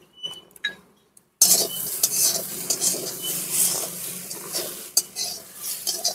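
Puffed rice is stirred and dry-roasted in a pan, with a utensil scraping and clattering against the metal over a soft crackle, following a brief quiet gap at the start.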